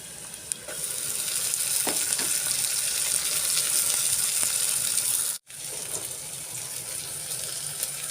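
Continuous close sizzle and stir of dill leaves frying with softened onions in a pan, a steady bright hiss broken by one brief drop-out near the end.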